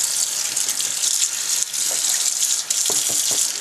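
Tap water runs steadily from a faucet into a sink while fingers are rinsed during squirrel cleaning, a continuous close hiss with slight splashing variations throughout.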